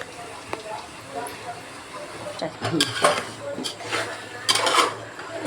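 Chicken curry stirred in a cooking pot, metal spoon clinks and scrapes against the pot rising in short bursts over a low simmering hiss, with someone speaking alongside.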